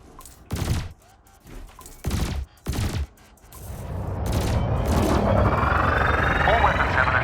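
Ship weapons in Elite Dangerous Odyssey fire at canisters: several short bursts at first, then a sustained rolling barrage of gunfire with a rising roar, loud and close.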